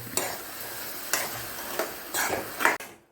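A spoon stirs a thick rice flakes dessert mixture with banana in a pan over a medium flame, giving repeated soft scraping strokes and gentle sizzling, close and alone.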